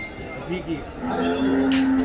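A water buffalo at a livestock market lets out a low, drawn-out moo that rises into a sustained tone, with livestock noises and murmuring around it.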